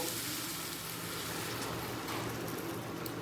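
Hot water poured over sizzling fried potatoes in a pan while cooking Bengali dhoka dalna, a steady loud hiss and crackle of frying that continues throughout.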